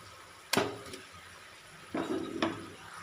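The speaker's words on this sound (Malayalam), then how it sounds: "ഇതിലേക്ക് നമുക്ക് ഫ്രൈ ചെയ്തിട്ട് മാറ്റി വെച്ചിരിക്കുന്ന നേന്ത്രപ്പഴത്തിൻ്റെ കഷ്ണങ്ങൾ ഇതിലേക്ക് ഇട്ട് കൊടുക്കാം" Fried plantain pieces dropped into thickening jaggery syrup in a pan, with a sharp clank followed by two more clattering thumps and soft scraping.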